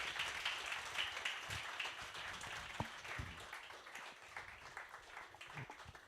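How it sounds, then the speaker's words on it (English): Applause from an audience at a book launch event, fairly quiet, steady clapping spread across the room with a few sharper individual claps and thumps standing out. "I think we should give them a huge round of applause"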